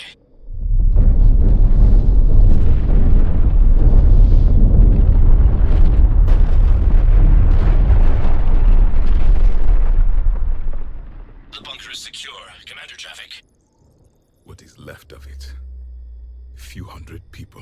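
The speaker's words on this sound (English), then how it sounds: "Neutron bombardment underway." Neutron bombardment explosions in the Mass Effect game: a long, loud, deep rumbling roar that fades out, followed by quieter scattered crackles and a low hum.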